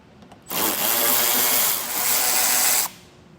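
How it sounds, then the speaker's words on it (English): A power tool on a 2022 Ford Bronco Sport backs out 7mm screws in one sustained whirring run of about two seconds, close and loud, with a brief dip midway and no talking. "To begin our installation, we're going to remove these 4 7mm screws."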